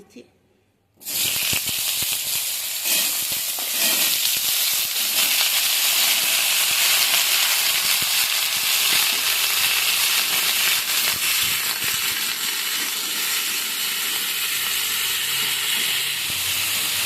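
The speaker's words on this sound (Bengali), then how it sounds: "এই আলুগুলো আমি তেলের মধ্যে ছেড়ে" Potatoes dropped into hot oil with fried cumin seeds and chilli set off a loud, steady, hissing sizzle that starts after a brief quiet moment and runs unbroken to the end.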